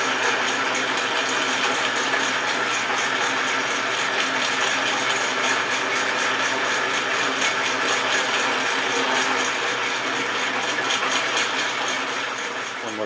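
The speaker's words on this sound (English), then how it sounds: "So now when I tighten up the clutch, the cross feed will be going." A 1940 Sheldon 11-inch metal lathe with U-type underdrive runs with the cross feed engaged, a steady mechanical whir and gear clatter at close range with no talking.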